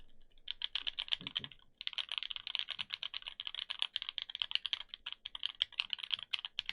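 Rapid typing on a NovelKeys NK87 aluminum edition mechanical keyboard, crisp, clacky keystrokes in quick continuous bursts with a brief pause early on, close and clear with no talking.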